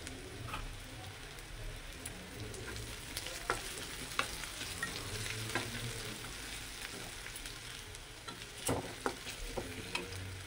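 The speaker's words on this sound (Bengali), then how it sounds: "এবারে দিয়ে দিব আমি রসুন কুচি, আর দিয়ে দিব আদা কুচি" Chopped garlic and ginger going into frying onions in a pan, a steady quiet sizzle with scattered clicks and scrapes of stirring, close with no talking.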